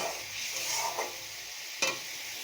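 Spice paste sautéing in a pan with a little water added, for a shol fish and potato curry: a steady soft sizzle with a few light stirring scrapes, one sharper clink near the end, no talking.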